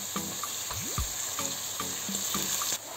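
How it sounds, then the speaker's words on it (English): Tomato stew for gari jollof bubbling and sizzling in a pot, with steady frying hiss and scattered pops and stirring clatters, close and alone without voices. "Stir it and let it cook from 10 to 15 minutes more."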